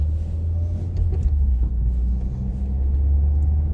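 Deep, steady engine rumble from inside a car with a stock intake, driven hard with no turbo whistle audible; the low drone swells slightly as the car accelerates, loud and close with no talking.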